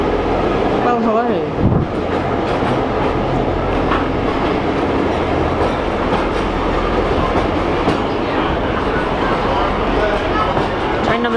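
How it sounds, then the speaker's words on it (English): A Kuranda Scenic Railway train in Queensland rolls in close and loud, with steady clickety-clack of wheels and a brief squeal near the start, while people talk over it. "Train number 2 has arrived."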